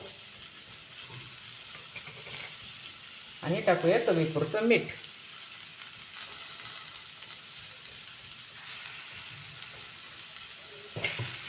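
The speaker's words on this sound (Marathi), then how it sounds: "ते पावट्याचे दाणे असे परतून घ्यायचे" Pavta (field bean) seeds sauté and get stirred in spiced masala with roasted flour, a steady low sizzle with a louder scraping stir in the middle, under a woman's speech.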